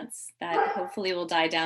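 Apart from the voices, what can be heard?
dog barking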